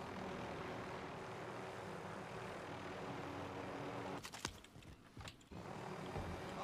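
A video game helicopter engine drones steadily at a distance, a broad whirring roar that dips and breaks up briefly near the end before resuming.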